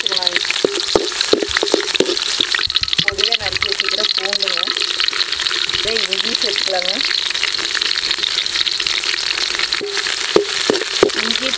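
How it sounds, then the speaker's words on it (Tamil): Fennel seeds crackle and splutter in hot oil, a dense sizzling hiss with sharp pops, while a person speaks over it. "இப்போ சோம்பு பொரிஞ்சிருச்சுங்க."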